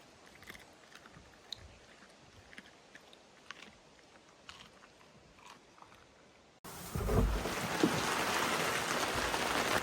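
Light pattering and ticks give way to a sudden, loud steady hiss of heavy rain on a forest hut that continues to the end.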